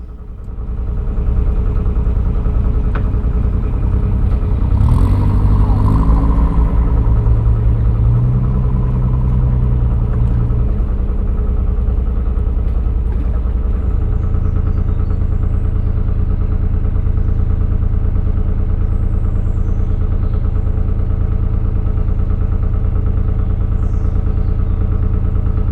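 A hire narrowboat's engine chugs loudly past on a canal, a steady low diesel rumble with a rising tonal whine mid-pass that shifts and then settles back to a continuous drone.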